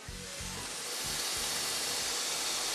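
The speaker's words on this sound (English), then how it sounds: "Polyurea sprayed on geotextile fabric is commonly used for pond lining, secondary containment, and ground cover." Polyurea sprayed from lightweight spray foam equipment gives a steady, loud airy hiss that runs without a break, with a low mechanical thrumming from the rig beneath it.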